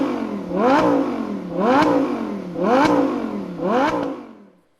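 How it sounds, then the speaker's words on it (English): A Lamborghini Huracán's naturally aspirated V10 engine revs four times in a regular rhythm, each rev climbing in pitch and dropping back, loud and close, then fading out. "now what you have here is a sound of our V10 engine"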